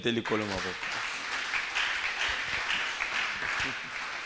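A church congregation breaks into applause to acclaim the Lord, a dense wash of clapping mixed with raised voices and cheering that carries on steadily throughout.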